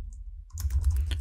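A computer keyboard is typed on after a brief quiet moment, producing a quick run of close, soft keystroke clicks.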